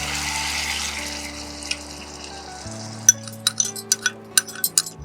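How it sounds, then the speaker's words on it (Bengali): Water poured into paneer kofta gravy cooking in a pan, a steady splash and sizzle followed by a run of light clinks of a utensil against the pot. "একটু জল দিয়ে দিলাম।"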